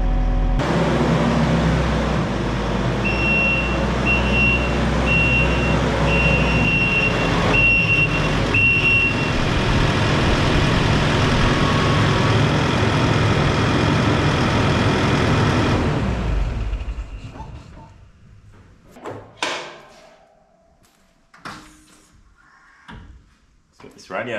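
Kubota SVL65-2 compact track loader diesel engine idling steadily while warming up, a loud continuous rumble for about sixteen seconds before cutting off, followed by scattered clunks and knocks as it falls quiet.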